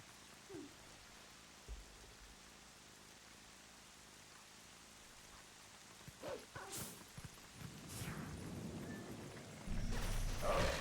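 Rain falls steadily in Zelda: Twilight Princess, a soft, faint hiss that swells louder toward the end along with a few brief game sounds.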